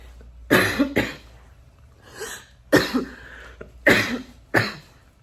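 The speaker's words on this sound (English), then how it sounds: "why I keep having this like really dry cough" A series of dry, harsh coughs in close succession, bursting out in pairs with short pauses between, close and fairly loud with no talking.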